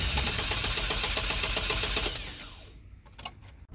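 An engine with distributor ignition cranks via the ignition switch with a fast, rhythmic chugging for about two seconds, then stops, followed by quiet and a few small clicks.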